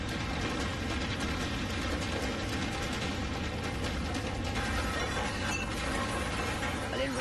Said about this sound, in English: The first thing you hear is the sound of the glass, like the glass shaking